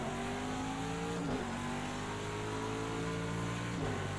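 In Project Cars at Circuit of the Americas, a Chevrolet IMSA GTD Pro race car's engine howls continuously, pitch climbing through gears with quick drops at two shifts, loud and unbroken by any voice.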